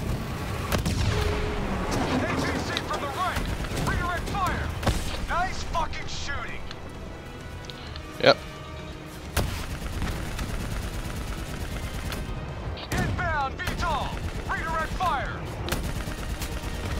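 Gunfire aimed at a VTOL aircraft in Black Ops 3, with bursts of shots, explosions and battle noise throughout, one sharp loud crack standing out, under frequent talking.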